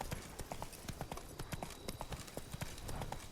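Steady clip-clop of a trotting horse's hooves in The Witcher 3 video game, a fast even rhythm of fairly quiet, distinct beats set against low ambient background.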